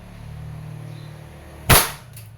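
WE Airsoft 1911 MEU gas pistol firing a single sharp, loud crack over a low steady hum, followed by a brief faint echo.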